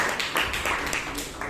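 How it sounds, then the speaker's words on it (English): Applause from an audience at a Toastmasters club meeting in Bangalore. Faint, brief clapping from a modest crowd, a little over a second of soft, dense claps. "Another round of applause for that entertaining session that we had"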